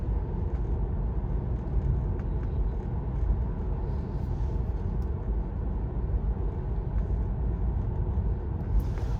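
A Tesla car accelerating is heard as a steady low road and cabin rumble, a continuous moderate drone with no distinct engine note or pauses.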